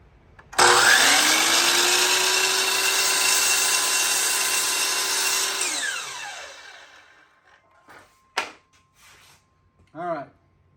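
A power saw cuts a 22.5 degree trim piece for a reverse crown joint, whining loudly for about five seconds before spinning down, followed by a few clicks and handling knocks nearby.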